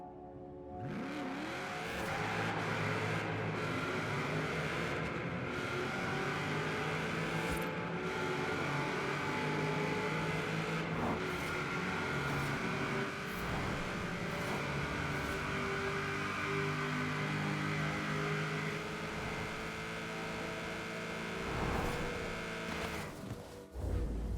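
A Nissan Skyline in a racing simulation game, driven with a steering wheel, accelerates hard down a long straightaway. The engine holds a steady, loud, sustained drone with rising pitch for the full stretch, without talk.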